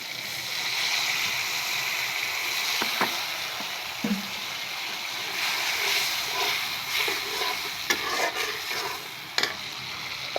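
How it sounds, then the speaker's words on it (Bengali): Pointed gourd and potato sauté in spiced oil with a continuous moderate sizzle, broken by sharp clicks and scrapes of a spoon against the pan as they are stirred. "এবার পটল আর আলুটারে হালকা করে একটু কষিয়ে নিব।"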